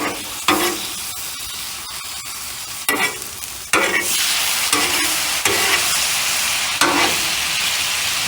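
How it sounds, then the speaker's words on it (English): Shrimp and chicken fried rice sizzles loudly on a hot griddle as soy sauce and toasted sesame hit it, with repeated bursts of hissing and scraping stirring strokes. "Now I am going to hit these with some soy sauce and a little bit of toasted sesame."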